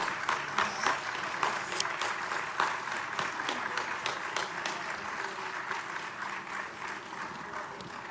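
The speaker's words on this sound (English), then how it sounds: "Let's give one last round of applause for our good friend Leonard Levy" Crowd applause honoring Leonard Levy at a Super Bowl LV community event, many hands clapping with audible individual claps and a few cheers, steady and lively throughout.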